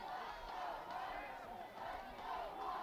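Large crowd of Eagle fans at an away college football game between UW La Crosse and UW Whitewater, a steady roar of cheering and shouting throughout.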